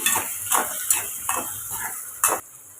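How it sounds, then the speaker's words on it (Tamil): Soya chunks frying in a pan while a metal spoon stirs them, giving a steady sizzle broken by five or six clinking scrapes against the pan, close and moderately loud with no talking. "லைட்டாக ஃப்ரை பண்ணி எடுத்துக்கலாங்க இதை நம்ம ரொம்ப ஃப்ரையாக்க வேண்டாம்"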